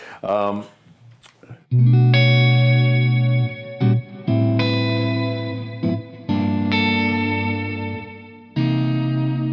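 An electric guitar played through a Strymon Big Sky reverb pedal rings out in sustained chords and notes that bloom with long lush reverb tails, loud and close, with someone speaking briefly at the start.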